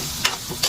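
Eggplant frying in a kadai, a close, steady sizzle with two brief bursts of louder crackle and spatter, no talk.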